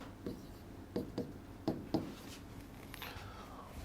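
A writing tool scratches out a vector formula during a maths lesson, with several short, quiet strokes in an uneven rhythm against a hushed room.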